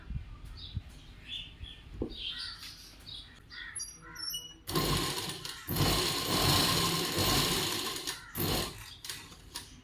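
A sewing machine stitching the shoulder seam of a simple blouse, with short intermittent bursts of stitching that turn into a longer continuous run, loud and close, with a crow cawing faintly in the background.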